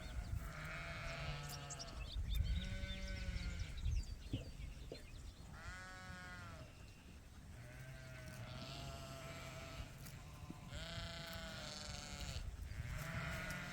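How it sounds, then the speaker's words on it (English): Dorset sheep bleat repeatedly in a pasture, their baas overlapping at moderate distance and carrying across the field in a steady, restless chorus with no talk. "And all the baaing in the background, that's the Dorsets who want to join the Suffolks in the field."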